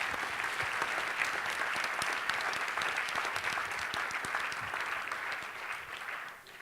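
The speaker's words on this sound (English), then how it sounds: "Can you give them a nice little round of applause?" Audience applause at a talk on communication, a steady dense wash of clapping that holds loud and even for several seconds before tapering slightly at the end, with no voices over it.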